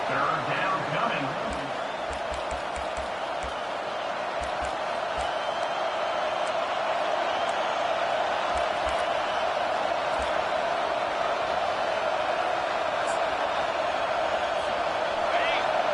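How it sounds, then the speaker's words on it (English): The stadium crowd roars steadily throughout at a college football game between Oregon and Michigan on third down, a loud, dense and continuous wash of noise with a commentator's voice over it. "Decibels rising as the crowd gets behind this defense on 3rd down."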